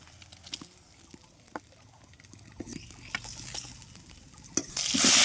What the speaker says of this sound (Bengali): নেড়ে চেড়ে ডিমগুলোকে লাল লাল করে ভেজে নেব